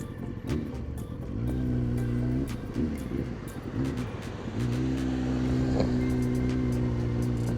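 A Kawasaki ZX9R motorcycle engine pulling up from around 2000 RPM, its close, loud drone rising in pitch through two long throttle surges with a brief dip between them.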